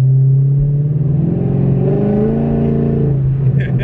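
A Chevrolet Camaro SS V8 engine revs up close, a loud deep rumble that climbs in pitch and then settles back down, with brief voices at the end.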